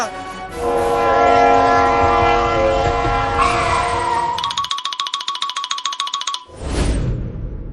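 A train engine passes with a long, loud horn blast, followed by a rapid rhythmic clatter and a final burst of rumbling.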